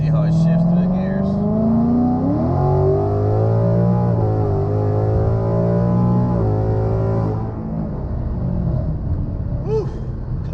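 A 2019 Mustang GT 5.0 V8 fitted with long-tube headers, an axle-back exhaust and a cold air intake revs up loudly and shifts through the gears, its engine note climbing and dropping in repeated steps close to the microphone.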